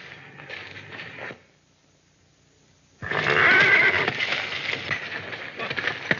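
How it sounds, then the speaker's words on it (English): A horse bolts in a 1936 Western film scene, first a muffled stretch, then a short silence, then a loud burst of whinnying and hoof commotion close by. "But my horse bolted."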